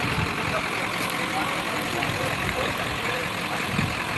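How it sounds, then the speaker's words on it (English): A truck engine rumbles low and steady close by with a slight rev, the heavy drone filling the whole stretch beneath faint background noise. "All he did was rev his truck."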